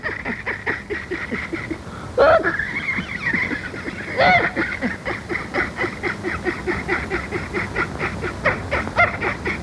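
Goose-like bird honking in a Russian fairy-tale film, a run of repeated nasal calls in a steady rhythm with two louder, sharper honks standing out, close and fairly loud throughout.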